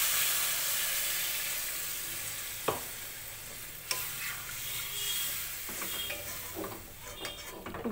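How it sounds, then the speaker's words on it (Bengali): Water hits a pan of sizzling katla fish-head masala with potatoes, a loud broad hiss and steam with a couple of sharp utensil clanks, then spoon stirring and bubbling as the sizzle eases. "কষানো হয়ে গেছে, এবারে জল ঢেলে দিচ্ছি"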